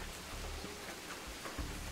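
Heavy rain pours down on a campsite beside a still-lit campfire, a dense, even hiss of drops hitting the ground and tent with a few soft low thumps, no voices.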